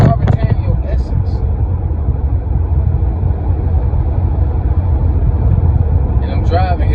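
Car driving on the road, a steady loud engine and tyre rumble running throughout, with someone talking over it at the start and end.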